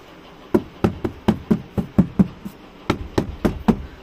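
Knuckles knock on a water-damaged, rotting wooden wardrobe: about a dozen dull, hollow raps close by, first in a steady run of eight, then after a short pause another quicker group of five.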